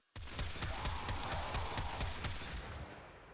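Astilla shotgun in the video game Warframe fires explosive slugs in a fast, even string of sharp blasts, each shot cracking loudly with a short explosive burst behind it for over three seconds.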